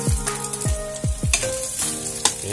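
Chicken pieces frying in a pan with butter and garlic over medium heat, a steady sizzle with repeated low thumps and scrapes as the meat is stirred and turned, close and continuous.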